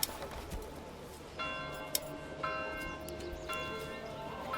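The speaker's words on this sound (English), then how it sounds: "he just starts rapidly ringing the bell with no explanation" In the Manor Lords strategy game, a church bell rings repeatedly at a brisk pace, with about three clear strikes roughly a second apart. They sound faint and somewhat distant over a soft ambient bed.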